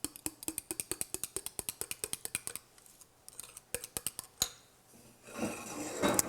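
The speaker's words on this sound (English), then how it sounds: "I add a little over about 2/3 cup of that cream. And I stir it up really good" A spoon stirs cream in a pot with quick, evenly spaced clinks against the metal. The clinks become sparse and irregular, then give way to a soft rising hiss.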